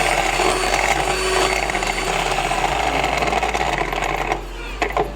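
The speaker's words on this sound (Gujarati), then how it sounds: "બીટરથી આ ત્રણેય વસ્તુઓને મિક્સ કરવાનું" An electric beater whips sugar and two other chocolate cake ingredients together until the sugar dissolves, giving a steady, loud, close motor whir that runs without a break and has no voices over it.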